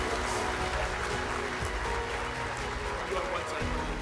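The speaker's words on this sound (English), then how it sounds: "round of applause," An audience at a business awards ceremony gives a round of applause, a sustained wash of clapping heard in a large room with some voices mixed in.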